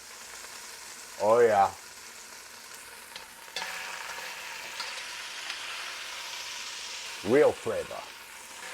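Beef browning with garlic and black pepper in a pot for Italian-style pot roast: a steady soft sizzle runs underneath, with two short bursts of speech.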